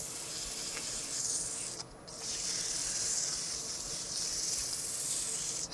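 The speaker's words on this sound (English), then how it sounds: "Make sure I get the whole surface covered here pretty well. And you don't want to focus on sanding on one axis for too long." Steady dry rubbing of sandpaper over a turned wooden sphere, a continuous close abrasive hiss with one brief pause near the two-second mark.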